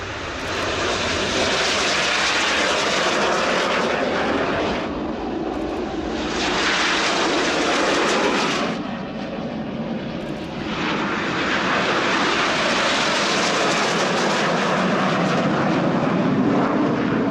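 Red Arrows BAE Hawk T1 jets rolling for takeoff at the RIAT 2017 air show, a loud sustained roar of jet engines that surges and dips as the formation passes.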